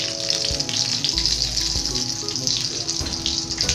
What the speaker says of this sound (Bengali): এবার আমরা চেরা কাঁচা লঙ্কা অ্যাড করছি দুটো চেরা কাঁচা লঙ্কা আমরা দিয়ে দিলাম